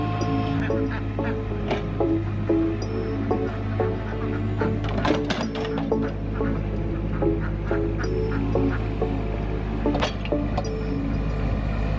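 Flock of chickens and ducks on a homestead, steady overlapping clucks, quacks and honking calls close by with a low constant hum beneath, no talking.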